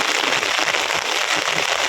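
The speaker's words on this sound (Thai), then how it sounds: "เบิ่งเสียงฝนตกนะพี่น้อง" Heavy rain falls steadily outdoors in a dense, even hiss with fine crackling patter throughout, loud and unbroken, with no speech.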